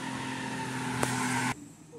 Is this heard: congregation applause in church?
no